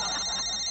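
A telephone rings in a brief, bright electronic trill that cuts off abruptly, with no talk over it.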